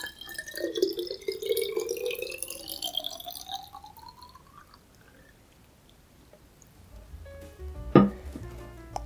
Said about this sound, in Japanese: お水をしっかりと入れて